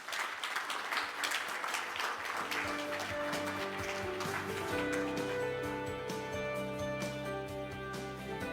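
An audience at the TOTAL Awards 2022 ceremony gives steady, sustained applause, and music swells in underneath after a few seconds and continues alongside the clapping.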